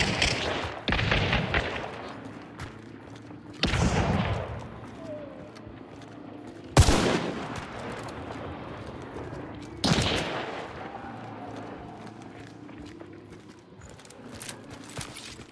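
Four loud, separate gunshots in Hunt: Showdown, each a sharp crack followed by a long echoing tail, spaced about three seconds apart with low background noise between them.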